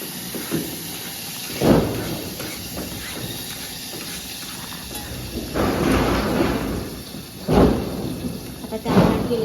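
Hot water hits frying masala for misal in a pan, releasing loud bursts of hissing steam that swell and fade several times over a rumbling background.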